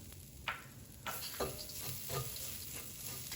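Grated ginger being stirred into eggplant frying in a pan for a spicy coconut dish, with a steady background sizzle and several soft scraping stirs spaced about half a second apart, close and alone.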